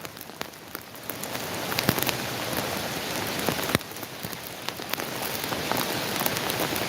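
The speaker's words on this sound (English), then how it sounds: "The rain's really coming down now." Heavy rain pours down outdoors in a dense, steady hiss with scattered louder drops striking nearby surfaces, filling the whole scene with no voices.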